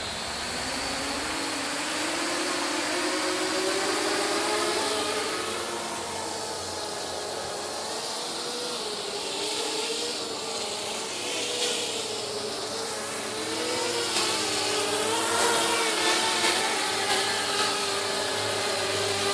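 Multirotor drone flying on its motors, a steady buzzing whine with shifting pitch harmonics that rise and fall as the throttle changes, sustained and fairly close throughout with no talking.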